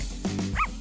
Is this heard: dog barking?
yes